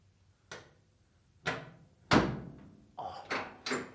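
A door swings shut and latches with an Altman Easy Latch, giving a series of five or six sharp thuds and clicks spaced through the moment, close and fairly loud with quiet gaps between.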